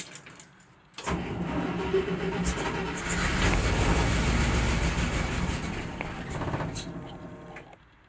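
A 1964 IH Travelall engine with ignition timing set at zero degrees cranks briefly and then catches, running with a steady loud rumble for several seconds before easing down, recorded up close.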